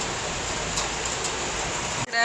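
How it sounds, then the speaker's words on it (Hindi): Heavy monsoon rain pours down on a street in India, a loud unbroken wash of noise that cuts off abruptly near the end. "कितनी तेज बारिश हो रही है, बहुत तेज बारिश हो गई भाई।"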